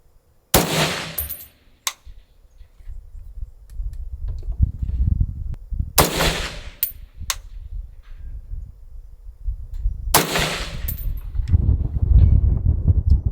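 Three loud, sharp AR-10 rifle shots ring out about five seconds apart at long-range targets on an outdoor range, each a sudden blast with a short ringing echo, separated by quieter rustling and handling noise.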